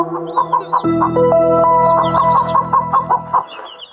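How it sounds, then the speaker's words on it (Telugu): A hen with her chicks clucks close by in a short, rhythmic series of clucks. Higher chick peeps and a drawn-out tonal call sound over the clucking. "అదుగో కోడి అమ్మ, పిల్లలు కూడా ఉన్నారు."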